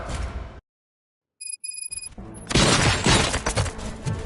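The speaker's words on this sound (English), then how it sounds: "Gunshots? What's going on?" Gunfire erupts in RoboCop: Rogue City: after a brief silence and a few sharp high electronic beeps, a loud chaotic burst of shots and crashing impacts fills the scene.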